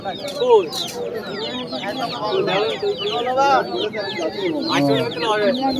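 Roosters and hens cluck and squawk in a busy rural poultry market, with rapid overlapping calls close by and people talking throughout.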